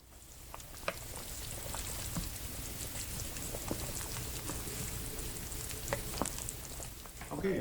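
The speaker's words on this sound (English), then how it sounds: "our noodles have been boiling for about 5 minutes" Noodles boil in a pot of homemade chicken broth, a steady bubbling and sizzling hiss with scattered pops and light stirring clicks, close and fairly quiet throughout.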